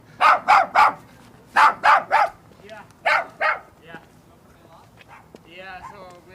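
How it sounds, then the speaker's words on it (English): A guard dog in a city neighborhood barks in three loud bursts of two to three sharp barks each, close by, followed by quieter yips and faint street sounds. "Look at this guard dog."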